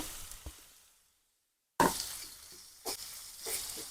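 Onions frying in a pan with tomato and green chilies for Angamali-style pork, stirred in brief scraping bursts over a soft sizzle, with a short silent gap partway through.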